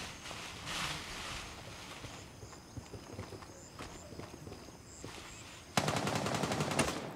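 Gunfire in the shooter game Gray Zone Warfare: scattered, distant single shots give way to a loud, rapid burst of automatic fire near the end.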